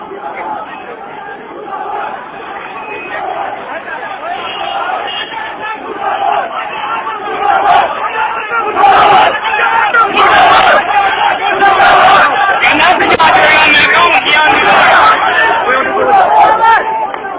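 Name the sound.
crowd chanting protest slogans at Rangpura Chowk, Sialkot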